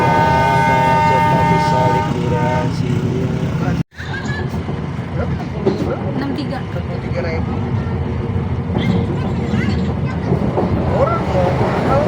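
Steady rumble and rattling of a moving passenger train cabin bound for Purwokerto station, a horn tone early on, with people talking under the constant noise.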